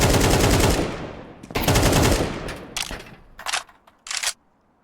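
Rapid automatic gunfire in the video game Counter-Strike 2 during a round defending a bomb site, several loud close bursts that cut off sharply, followed by shorter separate shots and clicks as the firing tapers away.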